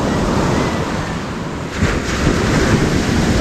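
Big ocean waves roll and crash near Fortune Island, a loud, dense wash of surf with heavy wind buffeting the microphone throughout.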